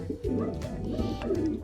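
A pigeon from a Polish racing-pigeon breeding loft coos in a low, continuous rumbling call close by, steady and unbroken through the whole moment with no talk.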